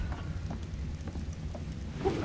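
Rain pours nonstop in the video game Ark Survival Genesis, a dense, steady wash of falling water with a low rumbling undertone, heard alone at moderate loudness.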